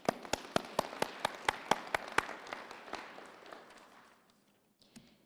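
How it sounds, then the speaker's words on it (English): Graduation audience at a Ranger College fall 2020 ceremony claps in a small group, about ten sharp distinct claps in a steady rhythm, then a softer scattered patter that fades out, with one last clap near the end. "let us give ourselves a round of applause"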